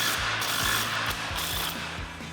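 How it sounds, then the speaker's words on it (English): Ratchet with a 21mm socket and swivel adapter loosening the axle-side track bar bolt on a Jeep Wrangler JL, giving close, steady rapid clicking strokes throughout. "we're going to start on the axle side with our 21mm socket and swivel adapter"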